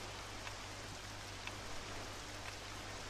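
Rain falls steadily in The Legend of Zelda: Wind Waker, a constant soft hiss of drops with no breaks, faint and even throughout.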